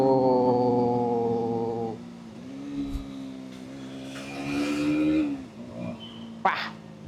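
A KTM Duke 200 motorcycle exhaust drones with a steady, buzzy note, then drops and shifts pitch as the engine eases off under engine braking, ending with a few sharp knocks.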